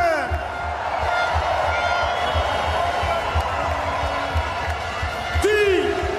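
A stadium crowd at the Abe Lenstra Stadion in Heerenveen cheers at a Special Olympics opening ceremony, a steady broad roar with scattered whistles and clapping, holding level throughout.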